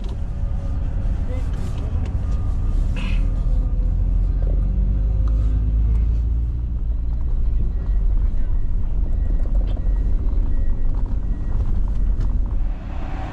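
Deep, steady engine rumble of a snow plow truck in a snowy setting as it pulls a stuck car out with a chain, continuous and loud, with people talking over it and a wind-buffeted microphone.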